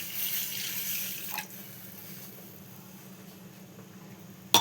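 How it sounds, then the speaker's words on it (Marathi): Water runs from a tap into a glass in a home kitchen before noodles are made, a steady close hiss and gush that eases off partway through, ending on a brief knock. "आधी आपल्याला एका ग्लासात घ्यायचं आहे पाणी"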